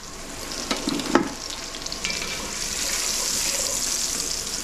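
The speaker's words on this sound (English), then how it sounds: "So into this pan now go my mushrooms." Mushrooms dropped into a hot pan for beef stew give a couple of soft thumps and then a steady, bright sizzle that holds close and even throughout, with no talking.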